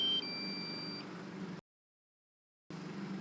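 A drone emits steady high electronic beeping tones for about a second over a low rumbling hum, then a sudden dropout to silence before the hum returns.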